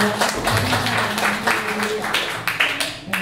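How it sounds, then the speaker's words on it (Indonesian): Audience claps at a church worship service after a song by an elderly woman, a dense, close ovation running throughout while a voice speaks over it. "Berikan tepuk tangan dong"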